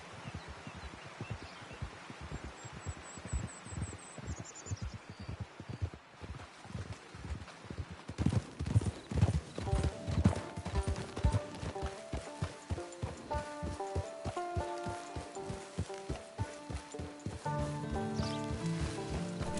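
Horse hooves clip-clop at a steady walking rhythm in a PS4 video game, close and moderately loud, with a brief whinny early on and game music swelling in partway through.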